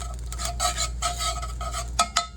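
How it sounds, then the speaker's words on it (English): Onion, pepper and garlic stirred into a pan after straining off beef: close scraping stir strokes with a light sizzle underneath, ending in a few sharp utensil knocks against the pan. "then in goes the vegetables, onion, pepper, garlic"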